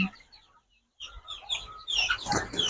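Fayoumi chickens on a quail farm cluck in short, close bursts, with a brief pause before a louder run of clucking near the end.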